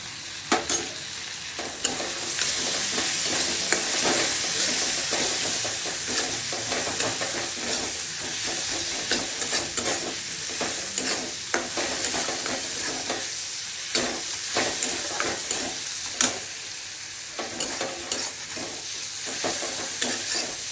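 Egg kosha curry with cream just added is stirred in a pan, a steady frying sizzle and hiss under repeated scraping strokes of the spoon, close and fairly even throughout.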